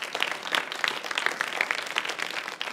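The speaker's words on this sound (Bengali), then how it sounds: "জোরে হাততালি।" A school audience at a magic show claps loudly for nearly three seconds, a dense and continuous burst of many hands with no talking.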